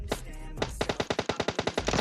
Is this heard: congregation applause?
no